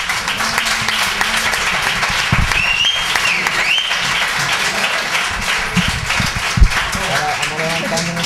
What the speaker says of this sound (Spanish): nos vamos a levantar nosotros y os vamos a dar un aplauso los dos a ustedes